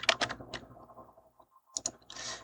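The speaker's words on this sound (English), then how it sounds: "So I'm going to type in mask." Typing on a computer keyboard while entering a layer mask setting in Unity: a quick burst of clicky keystrokes at the start, a few soft taps, then another short cluster of presses near the end, close and moderately quiet.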